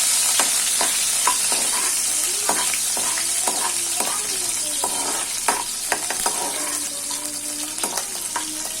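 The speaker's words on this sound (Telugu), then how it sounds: "స్పూన్ తీసుకొస్తాను కలుపుతున్నాను" Steady sizzle of dried prawns and okra frying in a pan, with repeated scraping and clinks of a spoon stirring throughout, close and fairly loud.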